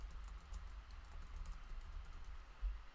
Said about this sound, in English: I'll type something else.